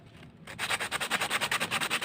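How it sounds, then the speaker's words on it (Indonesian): A toy car chassis is rubbed smooth with sandpaper in a steady run of quick back-and-forth strokes, close and clear, starting after a brief quiet moment, with no talking. "Bisa juga kita langsung amplas ya, kita ratakan menggunakan amplas"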